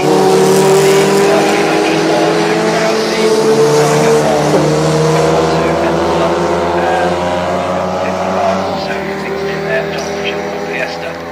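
Race cars at Oulton Park circuit roar past close by, a loud sustained engine drone with shifting pitch that gradually fades as they pull away.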